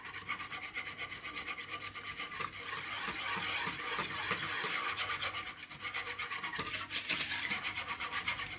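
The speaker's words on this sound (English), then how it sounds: "And I'm just using a whisk" A whisk beats milk into a chocolate self-saucing pudding mixture in a bowl, giving a fast, continuous scraping and swishing that grows slightly busier midway, with no talking.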